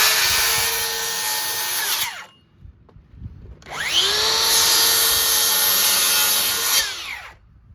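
A power drill cuts a coin door hole in a wooden arcade cabinet panel in two loud sustained bursts, each whining steadily for a few seconds, separated by a short quiet pause with light clatter.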